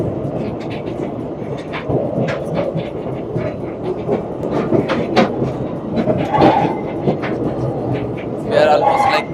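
A trolley train packed with about 80 people rumbles steadily along the track inside the underground Bochnia Salt Mine, Poland, with clattering wheel clicks and squeaks, the crowd chattering over the ongoing rolling noise.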